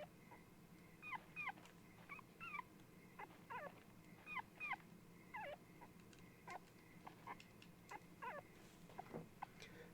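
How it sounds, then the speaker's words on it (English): In the video game Rule of Rose, a dog barks and yips repeatedly in short, high, evenly spaced bursts that sound faint and somewhat distant over a low background drone. "As the girl approached the sign, she heard a dog's bark."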